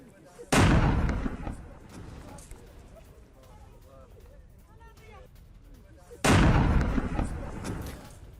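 Gunfire during a Tehrik-i-Taliban Pakistan attack on Pakistani soldiers: two loud, sharp blasts a few seconds apart, each with a rolling decay, with a voice speaking in between.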